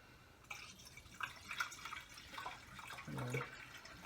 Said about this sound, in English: Let's fill the reservoir up with some water.